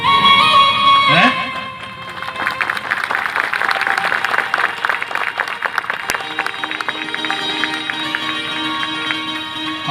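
A church congregation claps together at a worship gathering, a dense, sustained burst of applause that builds after a loud voice and continues steadily for several seconds.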